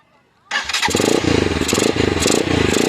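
A motorcycle engine fitted with a 28 mm carburetor cranks and fires into life after a brief pause, then settles into a loud, close, pulsing idle.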